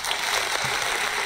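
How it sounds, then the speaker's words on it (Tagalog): A short burst of canned applause plays as a sound effect during a live stream, a dense wash of clapping lasting just over a second at moderate volume. "Palakpak!"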